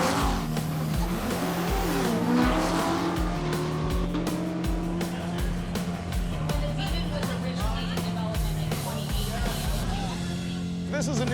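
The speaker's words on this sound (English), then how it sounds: "This is a new thing where they're drag racing with people." Hellcat-powered Ram TRX trucks drag racing, loud engine roar rising and falling with tire noise and passing rushes, heavy and continuous, with a voice talking over parts of it.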